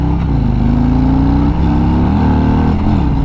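A 2022 Harley-Davidson Road Glide Special motorcycle rumbles loudly and steadily close by while riding, its engine note rising and shifting through throttle changes, with no talk.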